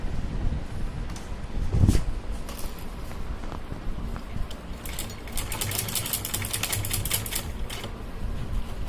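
A sewing machine stitches along a kurti neckline, its rapid needle clatter running in steady bursts close to the microphone, with light rustling and handling noise between runs.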